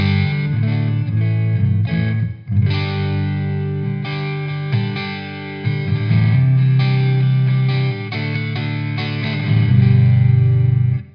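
An EVH Wolfgang Standard guitar on its bridge pickup plays through a Marshall amp on the clean channel, giving sustained, slightly distorted chords and notes that ring continuously and loud with brief pauses between phrases.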